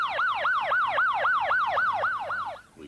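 An ambulance siren wails in a steady rising-and-falling pattern, about nine rapid cycles, loud and close and heard alone before cutting off at the end.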